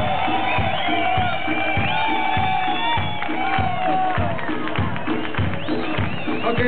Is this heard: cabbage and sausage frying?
no